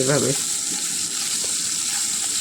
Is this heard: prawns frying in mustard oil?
yes